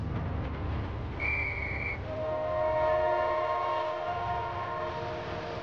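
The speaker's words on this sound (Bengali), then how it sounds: "কিছুক্ষণে ট্রেন ছাড়বে," A train waits at a station, about to depart, in a Bengali television drama. A steady low rumble runs throughout, with sustained horn or whistle tones sounding above it at moderate loudness.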